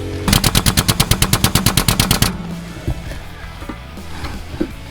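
A Harbor Freight 12-ton pneumatic/hydraulic jack lifting a 40-foot toy hauler gives a rapid, loud run of about twenty sharp mechanical pulses over two seconds, then stops, leaving faint clanks and background noise.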